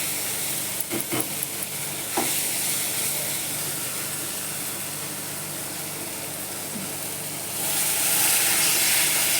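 Water is added to a hot pan of cooking moong beans, with a loud, steady sizzling hiss and a few clinks near the start; the hiss swells louder toward the end.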